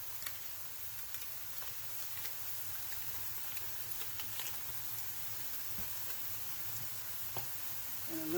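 Green beans and onions sauté in butter and black pepper in a pan, a soft steady sizzle with occasional faint ticks and stirring clicks, quiet and without talk.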